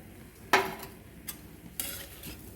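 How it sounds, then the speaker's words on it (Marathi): Fried peanuts tipped into a pan for a savoury breakfast dish and stirred, giving a few brief scraping, rattling bursts over a faint, quiet sizzle with no talking. "आता यामध्ये तळलेले शेंगदाणे घालून घ्यायचे"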